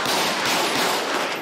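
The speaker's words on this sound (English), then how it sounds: "Whoa, shots fired." Sustained gunfire in GTA 5 on a military base, dense overlapping bursts of automatic and rapid shots, loud and close, running without pause and with no speech.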